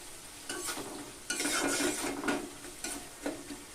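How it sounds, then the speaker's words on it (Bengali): Tomatoes frying with masala spice paste while being stirred in a pan for a rohu (rui) fish curry, a steady sizzle broken by several scraping stirs, close and fairly quiet, with no talking. "টমেটোগুলোকে দিয়ে একটু কষিয়ে নিলাম"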